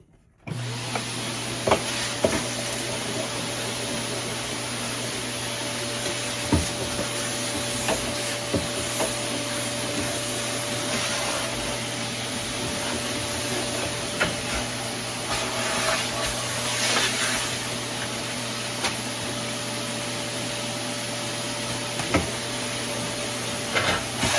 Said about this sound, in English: let me get this vacuumed out